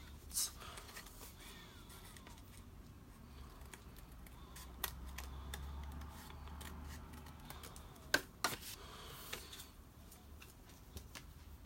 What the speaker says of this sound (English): Cut off the stuff we don't want.